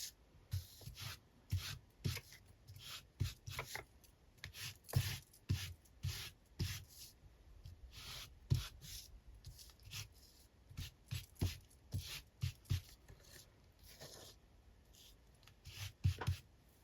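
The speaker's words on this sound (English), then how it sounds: "shall I rub a bit of Distress Oxide over it?" Distress Oxide ink rubbed by hand over the worn cover of an antique book, a series of close, dry scuffing strokes in an uneven rhythm, each short swipe distinct against a quiet room with no talking.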